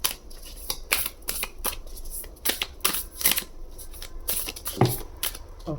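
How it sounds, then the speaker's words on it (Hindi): Oracle card deck being shuffled by hand, a run of quick riffling and sliding card bursts in an uneven rhythm, close and fairly loud, with no talking. "मैं इसको फिर से शफल करती हूँ, देखते हैं फिर से क्या वही कार्ड आएंगे।"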